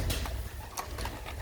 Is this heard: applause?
no